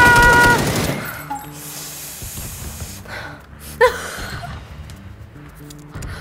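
Rapid gunfire bursts from a horror shooter video game, loud at the start and then trailing off into scattered shots, with a sharp gasp-like burst midway.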